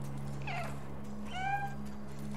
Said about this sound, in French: Si je miaule.